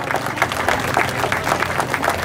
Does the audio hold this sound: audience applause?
yes